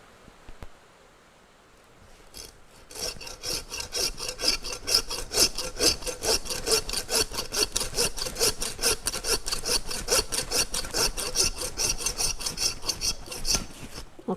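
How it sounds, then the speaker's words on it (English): A hand saw works through a pig ham and its pelvic bone in quick, steady rasping strokes, loud and close. It starts after two quiet seconds and keeps a rapid back-and-forth rhythm to the end. "you hear the difference in the sound of the saw"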